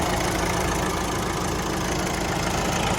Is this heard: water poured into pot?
no